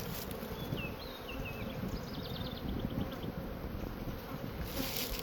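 Honeybees drone in a steady, continuous buzz through an outdoor spring colony split, with a few faint bird chirps above the swarm and no voices.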